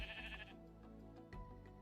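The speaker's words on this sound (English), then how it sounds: "if you're wondering where the sheep noise is coming from" Sheep bleat loudly in the Minecraft game Skyblock, one sustained nasal cry at the start followed by a quieter second bleat, set over a steady low background hum.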